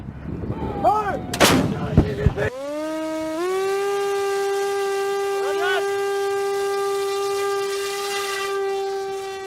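Artillery fires during the joint Israel-USA JC18 military exercise: several heavy booms crash in quick succession. They give way to a long, sustained high-pitched tonal whine that holds steady to the end.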